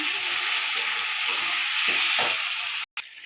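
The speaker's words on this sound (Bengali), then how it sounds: "আলুগুলো দিয়ে দিলাম। এবার এটা ভালো করে কষাতে থাকবো।" Potatoes stir-frying in hot spiced oil for a cauliflower, potato and pea curry, giving a loud, steady sizzle with a few faint stirring scrapes and a brief cut near the end.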